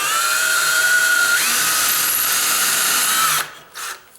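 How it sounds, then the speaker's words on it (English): A power drill with a tiny bit whines steadily and loudly, its pitch shifting partway through as it bores at a slight angle into a door frame, then cuts off with a few brief spins at the end. "I just take my drill with a tiny bit on there"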